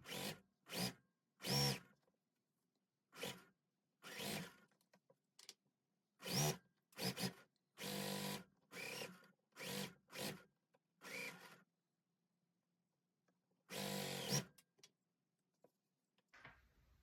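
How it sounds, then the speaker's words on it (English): A sewing machine stitches quilt block pieces together in short whirring runs of varying length, separated by brief pauses, with a longer stretch of silence before a final few bursts, close but fairly quiet. "now we just need to sew these together, and this block will be complete"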